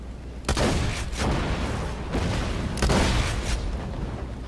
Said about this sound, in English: it is a shotgun that shoots swords that become tinier explosive swords